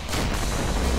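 A heavy, booming explosion in the co-op zombie shooter Killing Floor, a dense, loud rumble that fills the whole brief moment without speech.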